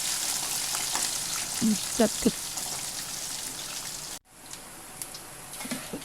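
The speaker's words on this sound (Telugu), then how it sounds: "చివరగా ఉల్లిపాయ, ఎల్లుల్లిపాయ కూడా వేసి ఉల్లిపాయ మరిగేదాకా వేయించుకోవాలి." Onion and garlic frying in oil in a pan for a tomato-cucumber dal tempering, with a steady broadband sizzle and a few brief voiced sounds mixed in; the sizzle drops abruptly near the end, then resumes more quietly.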